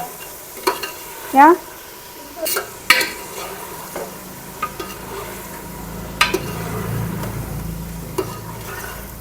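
Crumbs frying and being stirred in a pan, giving a soft sizzle and several clattering scrapes of a spoon against metal, close by. A voice says one short word.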